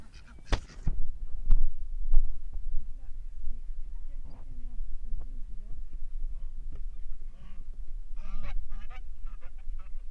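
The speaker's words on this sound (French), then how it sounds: "On a aussi les canards et les oies dans ce parc." Geese honk repeatedly nearby in a farm park, their nasal calls rising and falling, mixed with a clatter and talking underneath.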